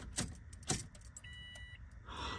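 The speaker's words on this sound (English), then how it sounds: "Let's go ahead and turn on the car" A 20-year-old car with an Arduino proximity unlock being switched on: keys jangle twice, then a steady electronic chime and a rising hum as the ignition comes on, close and moderately loud.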